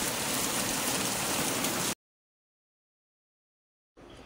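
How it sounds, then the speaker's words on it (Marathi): Heavy rain pouring down as a dense, loud, steady wash of noise, which drops out into silence for about two seconds and then returns fainter. "जोरदार पाऊस आला आहे, बघू शकता."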